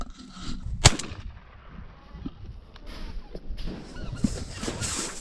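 A single shotgun blast fires while duck hunting outdoors, a sharp, moderately distant boom early on, followed by quiet ambient rustling and faint outdoor noise.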